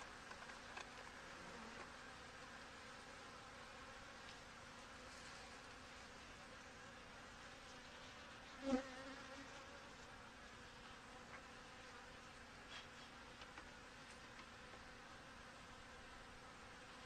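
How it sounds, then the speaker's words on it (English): Honey bees buzz around a backyard beehive in a steady, faint drone throughout, with one brief louder knock partway through and no voices. "We got a lot of bees."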